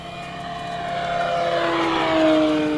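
An E-flite Carbon-Z Cessna 150T 2.1m RC airplane screams at full throttle, a steady high whine rising slightly in pitch and loudness as it passes close by.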